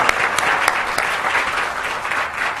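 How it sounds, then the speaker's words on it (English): Audience applause at an appreciation gathering for a financial adviser, a dense steady clapping of a sizeable crowd, moderately loud and close, with a few sharper individual claps standing out. "So I'm sure all of us here would like to give him a very big round of applause again."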